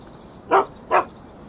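Two separate dog barks about 0.4 seconds apart in the video game Shadow of Destiny, fairly loud and clear against a quiet background with no talking.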